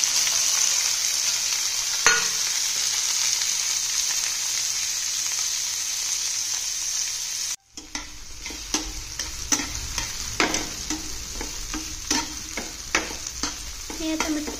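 Tomatoes sautéing in oil with chili flakes and oregano: a steady sizzle, then a brief drop before a spoon starts stirring, with repeated scrapes and clacks over the crackle.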